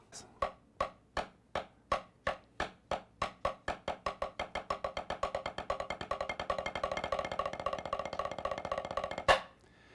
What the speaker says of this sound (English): The double stroke open roll is a very cool fill.